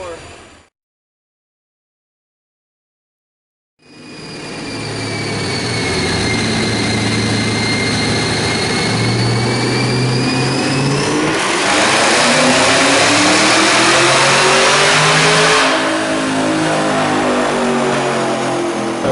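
A 2018 Chevrolet Camaro ZL1 automatic, supercharged at 20 pounds of boost on 60% ethanol with a Borla axle-back exhaust and K&N intake, roars into a loud sustained dyno pull after a brief silence, pitch climbing steadily, then a sharp surge near the top.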